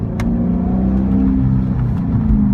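A Dodge Charger R/T with a custom exhaust, heard from inside while cruising with the windows closed, gives a deep steady engine drone and low exhaust rumble that holds loud and even throughout.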